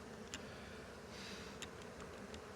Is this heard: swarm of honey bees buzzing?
yes